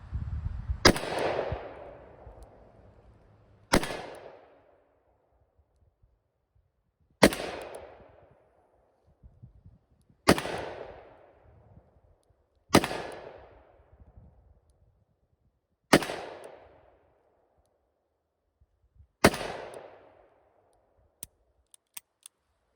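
A Taylor's .357 revolver fires Federal .357 Magnum 158-grain rounds: seven loud, sharp shots spaced a few seconds apart, each with a ringing decay, alone without talk.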